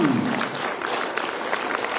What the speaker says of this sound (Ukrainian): Давайте ми заплодуємо, хай ці оплески полинуть далеко за океан